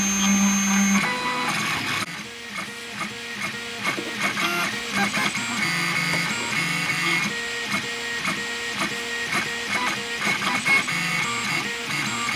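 A 3D printer prints a part for a gantry camera crane, its stepper motors whirring and chirping in shifting tones with steady rhythmic movement, close and continuous, with no voices.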